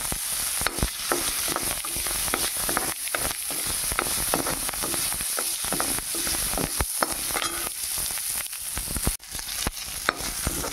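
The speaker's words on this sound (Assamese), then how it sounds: "মাছ ভাজোঁতে যিখিনি তেল ৰৈ গৈছিল সেই ৰৈ যোৱা তেলখিনিতে মই পিঁয়াজ দিলোঁ।" Onions frying in leftover fish-frying oil, a continuous close sizzle with repeated scraping stir strokes and occasional spatters throughout, no speech.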